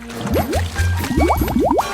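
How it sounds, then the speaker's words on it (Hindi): Something is dropped back into water with a series of quick, wet bloops and drips, several small liquid plops following each other close by. "मैं इसे वापस पानी में डाल दूंगा।"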